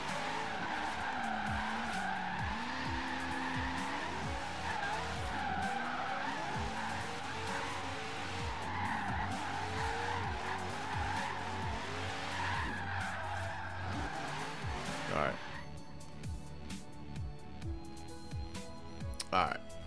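Corvette Z06 in Forza Horizon 3 braking hard, its big tires skidding and squealing over a steady engine drone, running nearly twenty seconds before easing off, with a player talking over it.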